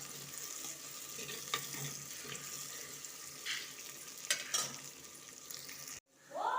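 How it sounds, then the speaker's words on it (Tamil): Curry leaves and about fifteen small onions sauté in a pan for a country chicken kuzhambu, a continuous soft sizzle with occasional stirring scrapes, close and fairly faint, ending in a brief water splash. "இப்போ கருவேப்பிலையும் ஒரு 15 சின்ன வெங்காயத்தையும் சேர்த்து நல்லா வதக்கிக்குவோம்."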